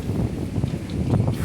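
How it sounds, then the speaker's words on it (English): Gale-force gusts of 30 to 35 knots blowing at a marina, a rough low buffeting roar against the microphone with faint rustling, loud and close for a brief moment. "Steady 30, 35 knot winds blowing."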